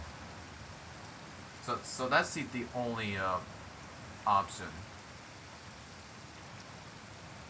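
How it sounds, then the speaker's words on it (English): Steady rain hisses evenly throughout a strong thunderstorm with high wind gusts in Sioux Falls, South Dakota, while someone speaks briefly over it. "Man, it's raining good now."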